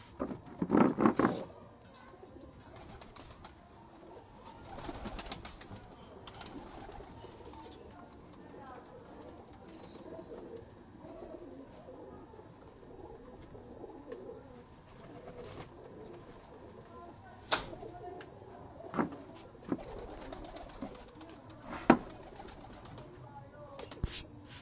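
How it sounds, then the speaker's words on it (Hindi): Pigeons in a loft coo softly and steadily in the background, with a few sharper bird calls and wing-like bursts scattered through, while someone talks over them now and then. "मेरे सारे कबूतर ये देखिएगा मलिक साहब वाले"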